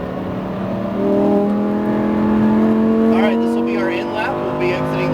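A Lamborghini Huracan STO engine pulls strongly on a track, its tone rising steadily and loud, with a voice talking over it partway through.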